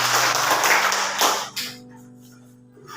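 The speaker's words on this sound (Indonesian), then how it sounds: "Tepuk tangan buat Edson." Classroom applause for a student, a burst of broadband clapping for about a second and a half that fades out, leaving a low steady hum underneath.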